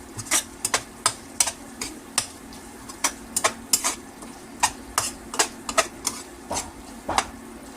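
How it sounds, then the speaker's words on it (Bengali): Small pieces of beef are fried and stirred with spices for a village-style pasta, a soft steady sizzle punctuated by repeated sharp scrapes of a spoon against the pan. "মশলাটা দিয়ে মাংসটাকে কষিয়ে নিয়েছি"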